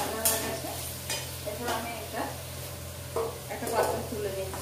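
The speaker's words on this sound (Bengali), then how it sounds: "সেগুলো আমি কড়াইতে দিয়ে ভেজে নিচ্ছি" Small diced potatoes frying in oil in a kadai, a soft steady sizzle with a few stirring scrapes, faint and close.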